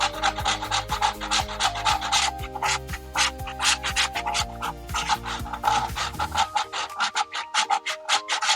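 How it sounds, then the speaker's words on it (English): Frozen ginger is scraped against a grater in rapid, rhythmic rasping strokes, close and fairly loud, with a steady back-and-forth scratch that continues for most of the stretch before thinning out near the end. "So we're just gonna start grating."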